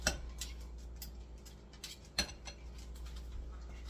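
A butter knife clinks and scrapes softly while stuffing jalapeño poppers for a bacon and ranch recipe, with light ticking taps and one sharper knock near the middle, all close and quiet with no talking.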